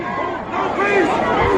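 A very large crowd of protesters gathers on West Florissant in Ferguson, two groups meeting; a dense, continuous babble of many voices with scattered shouts rises and swells, loud and close throughout.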